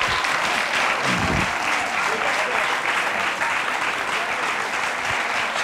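Sustained applause from a TV studio audience, dense and steady clapping throughout, fairly loud, with a brief low thump early on.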